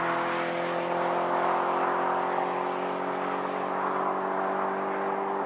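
The naturally aspirated engine of an Audi RS4 Avant sings at high revs, a steady, sustained harmonic drone held evenly throughout without any voices.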